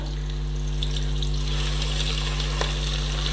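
Chopped onions fry in oil in a pan, producing a continuous close hissing sizzle over a strong steady low hum, with a few faint clinks.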